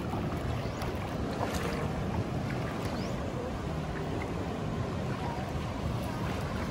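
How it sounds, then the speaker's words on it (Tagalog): Strong waves at Siargao crash and surge loudly, blending with heavy wind buffeting the microphone in a continuous, churning roar with no clear talk. "At ang lakas ng alon."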